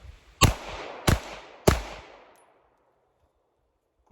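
Three quick pistol shots from a handgun fitted with a Holosun 507C optic at an outdoor range, evenly spaced sharp cracks with short echoing tails, then silence.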